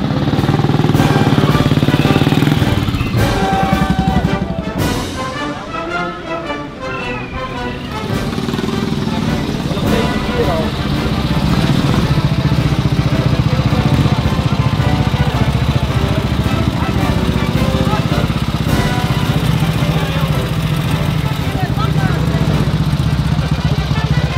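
Motorcycle engine running steadily throughout while riding along on Tholen, a loud continuous drone with a brief dip early on, with voices talking over it.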